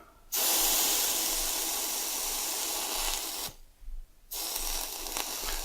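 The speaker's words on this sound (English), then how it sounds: "I'm going to go a little thinner on the paper just to get the steam a little more direct in contact with it" Steam hisses loudly and steadily onto paper in two long bursts with a brief pause between them, a close, broad rushing spray with no talk.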